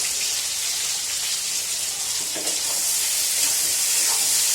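Tomato frying in a pan on a gas stove gives off a steady, continuous sizzle and hiss. The sound is close and even throughout, with no voices over it.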